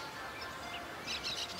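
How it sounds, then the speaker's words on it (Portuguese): Burrowing owls at a sports complex in Matão give a few faint, brief chirping calls near the end over a low background hiss, with no talk. "As corujas-buraqueiras ali"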